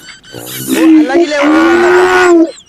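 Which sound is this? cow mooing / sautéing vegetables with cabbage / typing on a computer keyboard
cow mooing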